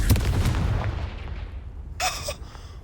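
Confringo spell explosion in Hogwarts Legacy, a loud booming blast that rumbles and fades, followed by a brief crackling burst.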